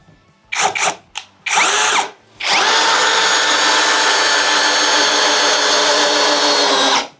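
A cordless brushless impact drill whirs in a few short bursts, then runs steadily for several seconds driving a screw, loud and close, before stopping.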